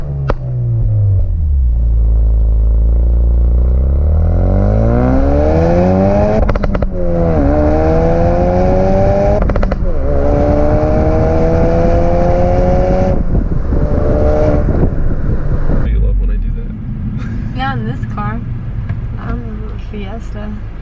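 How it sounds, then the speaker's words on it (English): A 2018 Ford Focus RS engine revs loudly up and down in repeated surges close by, with rough exhaust burble and a few crackling pops as it settles near the end. "a little clip of the exhaust so you guys can hopefully hear those pops and crackles"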